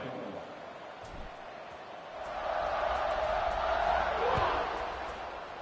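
Stadium crowd in the College Football 26 video game, Clemson against Notre Dame before kickoff: a broad, steady roar that swells and holds under a commentator's talk.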